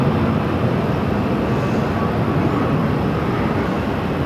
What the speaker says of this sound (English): we have another United A321neo going to be pushing back as well